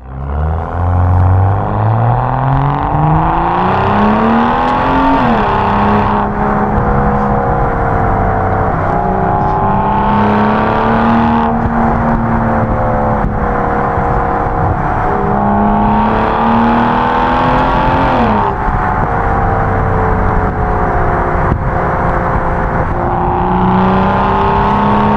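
A modified BMW E90 335i engine and exhaust revs repeatedly, loud and close, its pitch climbing and falling in several long pulls with a steady rumble underneath and no talk.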